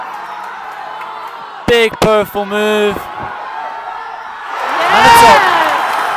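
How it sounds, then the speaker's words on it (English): A crowd cheers and whoops at a bouldering competition final, a loud swelling roar rising near the end after commentary speech earlier. "The crowd really ramping up."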